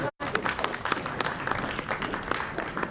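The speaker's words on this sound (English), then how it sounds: "Give him a round of applause, please." Crowd at a diaspora conference session applauds the moderator, a dense, lively clapping that starts just after a brief cut and continues steadily, fairly close and full.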